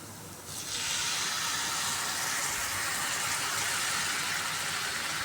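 Milk poured into a pan of grated carrot fried in ghee for carrot halwa, giving a loud, steady hiss and sizzle that swells after a quiet first half-second and holds close and continuous.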